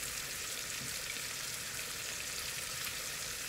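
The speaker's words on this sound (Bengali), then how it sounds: "এই পাশ দিয়ে আবার রান্না করছি, বোয়াল মাছ ভুনা করছি।" Boal fish frying in a pan with onion, chili and turmeric, making a steady, even sizzle that holds throughout with no talk.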